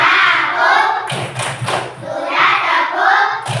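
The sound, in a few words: class doing the rhythmic 'tepuk diam' clapping chant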